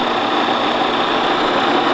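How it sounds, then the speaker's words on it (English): A metal lathe turns at its slowest speed, giving a steady, even mechanical hum with a bright whine and no change in level throughout. "This is the slowest speed this lathe will go."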